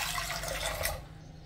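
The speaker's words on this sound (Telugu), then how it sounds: "ఇప్పుడు 3 కప్పుల నీళ్లు వేసేసుకోవాలి," Three cups of water poured into a pressure cooker holding washed toor dal, a steady close rushing pour that runs for about a second and then stops.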